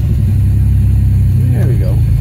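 A custom car engine has just come to life and rumbles loud and close with a dense low drone. A brief rising sweep appears near the end.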